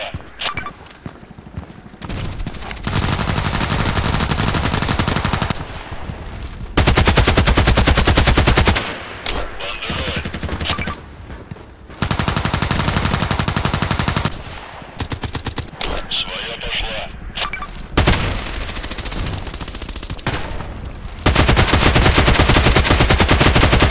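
Bursts of AK-12 assault rifle gunfire in the Contract Wars shooter come as loud, sustained automatic strings several seconds long, separated by brief pauses, repeating through the whole stretch.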